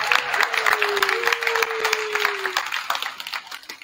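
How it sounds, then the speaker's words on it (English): A campus audience gives a round of applause, dense clapping and crowd noise filling the space for several seconds, with a sustained tone running beneath before the sound gradually tapers off. "please give them a big Seahawk round of applause"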